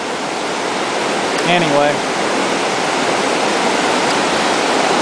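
A river flows along Linville Gorge south of Conley Cove, a loud, steady broadband rush close by, with someone speaking briefly over it.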